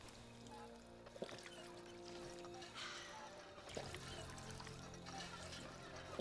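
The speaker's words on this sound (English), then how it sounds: "let's top up the water" Water topping up in the Fallout 4 game, a quiet pouring and trickling wash with a few soft clunks over a steady low ambient hum, no talk.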